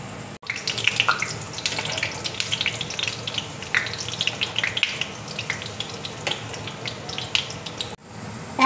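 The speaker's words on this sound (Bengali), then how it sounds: "ফ্রাই প্যানে দেখো তেল বসিয়েছি, তেল দেখো গরম হয়ে গেছে। এবার আমি তেলের মধ্যে দেখো ছেড়ে দেবো।" A tortilla dropped into hot oil in a frying pan sizzles loudly and continuously, a close, dense crackle that hisses on without pause or talking.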